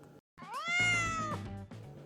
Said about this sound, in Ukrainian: Нявчить кошеня.